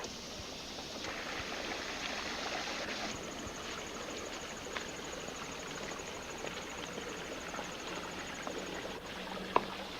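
Creek water rushing steadily over rocks, a constant broadband wash with faint insect chirping in the background and no voices.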